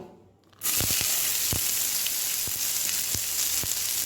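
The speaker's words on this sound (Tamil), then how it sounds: "இப்போது கடாயில் ஆயில் ஹீட் பண்ணியிருக்கேன். இப்போ ஆனியனை நம்ம போடுவோம்." Onions dropped into hot oil in a kadai burst into a loud, steady sizzle after a brief quiet moment, with occasional stirring knocks against the pan.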